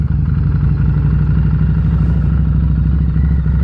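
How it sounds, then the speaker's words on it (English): A motorcycle engine runs steadily as the clutch is released with no throttle applied, a loud, close, even low chugging rumble with a constant level throughout and no talking. "once the bike is actually running, it will not stall"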